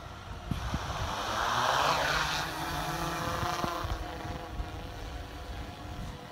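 Drone hovering at altitude during a flight test, a constant whirring hum with wind buffeting on the microphone and a few faint knocks, no talk.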